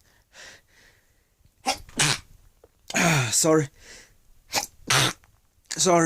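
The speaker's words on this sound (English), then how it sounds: "I had to sneeze." A single loud sneeze bursts out, surrounded by a person talking briefly before and after.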